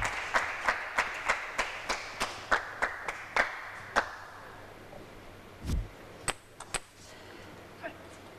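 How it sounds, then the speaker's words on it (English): Sharp, loud claps from a spectator at a team table tennis league match ring out in a steady rhythm of about a dozen, then trail off into a few scattered thuds and taps in a quiet hall. "That deafening clap here"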